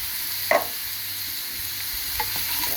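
Potatoes fry in pork fat in a pan with a continuous close sizzle, broken by a couple of sharp stirring scrapes.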